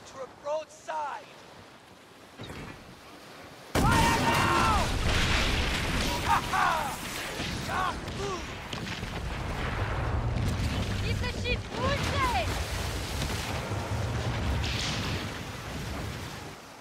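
Pirate ship cannons in the Skull and Bones video game fire a broadside, a sudden heavy boom followed by rolling blasts and rumbling over waves, with voices talking before and during the barrage.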